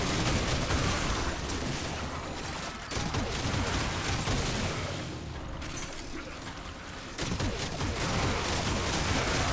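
An arc gun fires in the video game Warframe. Dense, loud crackling bursts continue almost without a break, with brief dips near the third and seventh seconds.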